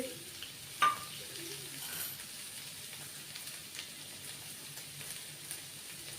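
Vegetables with boiled potatoes being stirred and mixed in a pan for a dry sabzi, a soft steady sizzle and scraping at low level with one brief clink near the start.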